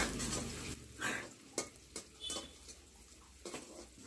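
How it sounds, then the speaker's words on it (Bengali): Onions sizzle in a hot pan after a spice tempering for a Bengali home dish, a continuous fry hiss broken by several sharp scrapes and knocks of a spatula stirring against the metal. "এবার পেঁয়াজটাকে একটু ভাজা হবে"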